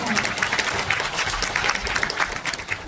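Audience applause at a national poetry recitation contest for people with disabilities, a steady dense wash of clapping with voices mixed in throughout.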